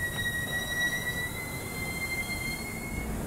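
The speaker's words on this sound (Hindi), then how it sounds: "ईएमडी की आवाज़ भी आ रही है काफ़ी ज़ोरदार, क्योंकि एक खड़ी चढ़ाई है" An EMD diesel locomotive hauls a train up a steep grade on a metre-gauge line. Steady high-pitched wheel squeal rings over a continuous rumbling roar, loud and close, with no talk.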